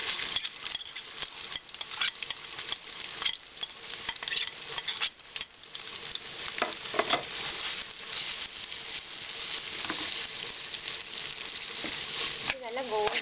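Sliced onions frying in hot ghee in a pan for garnishing a Kerala-style beef biryani, a continuous loud sizzle with crackling bursts and occasional stirring scrapes, no one speaking.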